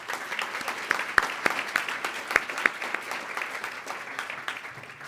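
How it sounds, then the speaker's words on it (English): Audience applause at the City Club annual meeting, a steady patter of many hands clapping with a few sharp, close claps standing out, moderately loud throughout. "Can we give a round of applause to IdeaStream?"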